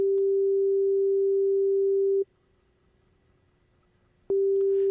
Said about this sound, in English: So now back to our sine wave. You can hear that pure honey tone like that.